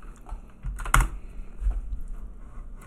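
Quick, close keystrokes on a computer keyboard as a command is typed into a Slackware Linux terminal, with one sharper key press standing out among the short clicks.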